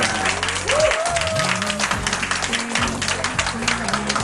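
Audience applause at a Korean audition show after the first-place result, dense clapping throughout with a music bed and tonal backing underneath, no speech.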